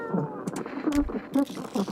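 A cat in a video game gives several short, close meows in a quick irregular series, fairly quiet against a low background.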